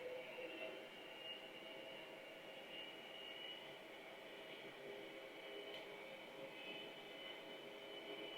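Jet engines of a Gulfstream G550 spool up on the takeoff roll in X-Plane 12, a steady, even whine and roar with a broad hiss that holds at a constant level from start to finish, with no voices over it.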